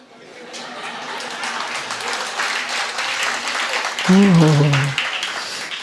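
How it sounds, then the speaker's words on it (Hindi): Audience at a Jain religious discourse (pravachan) breaks into sustained clapping that builds and stays steady, with a voice speaking over the applause near the end. "मतलब दूसरे के बेटे के लिए तुम सब ताली बजा रहे हो।"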